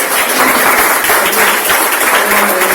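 An audience at a school board meeting claps. The clapping is a loud, steady patter that runs throughout at close range.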